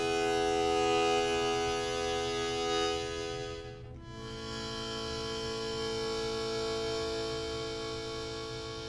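A harmonica chord played with wide open, relaxed breathing rings out as a full, sustained sound, swelling and dipping briefly in the middle before holding steady again, alone with no talking.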